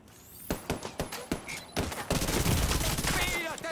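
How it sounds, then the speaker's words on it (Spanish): Video game gunfire in The Division 2, starting as separate sharp shots and then building into a dense, sustained burst of automatic fire, loud and close. "Disparando desde cobertura."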